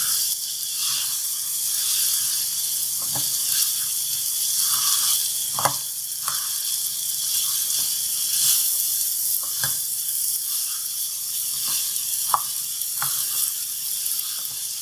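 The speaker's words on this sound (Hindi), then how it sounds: "थोड़ा सा भूनते हैं अच्छे से" Cluster beans (gawar phali) fry in a pan with a steady close sizzle and hiss, broken by occasional sharp clicks and pops from stirring, with no talking.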